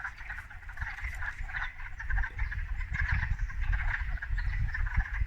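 Many frogs croak together in a city setting, a dense, continuous chorus of high, wailing calls that resemble infant cries, steady and fairly close, with no talking.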